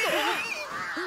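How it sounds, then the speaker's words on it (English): Crows in the anime Demon Slayer give a quick series of loud, close caws, harsh and overlapping within about a second. "Finally, the birds are on our side. The crows are pretty badass."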